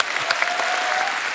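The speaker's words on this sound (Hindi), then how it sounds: "इस बात के लिए तालियां बनती हैं।" A studio audience at a comedy talk show claps in a dense, even burst of applause that holds steady throughout the clip.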